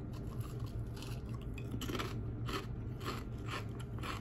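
Close, loud crunching of Zapp's New Orleans kettle-style Voodoo potato chips being chewed, in repeated bursts of crackly bites with no talking.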